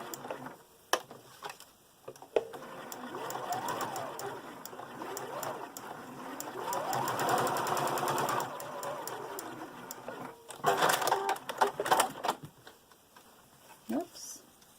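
Sewing machine running in bursts while stitching a reusable snack bag with a longer stitch length, rapid close mechanical chatter that starts, speeds along, pauses and resumes, with a voice talking over parts of it.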